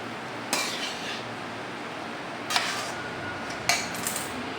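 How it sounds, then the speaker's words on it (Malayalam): A metal spoon clinks and scrapes against a pan three or four times while rice and vegetables are stirred, sharp close knocks over a faint steady background. "ഇനി അതിലേക്ക് നമുക്ക് ഈ പച്ചക്കറിയിലേക്ക് ചേർത്ത് ഇളക്കി നന്നായി ഇളക്കി കൊടുക്കണം"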